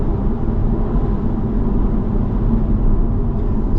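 A BMW M340d xDrive Touring diesel engine under acceleration, heard from inside the car: a loud, steady, low rumbling drone with road roar that holds evenly throughout, no speech.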